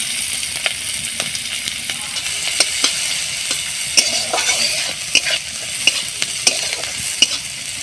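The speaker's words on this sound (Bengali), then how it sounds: "ওই তেলের মধ্যে দিয়ে দেবো রসুন আর পেঁয়াজ কুচি, সাথে কাঁচা লঙ্কা" Chopped garlic, onion and green chili sizzle in hot oil, close and loud, while a utensil scrapes and knocks against the pan in repeated stirring strokes, with no one talking.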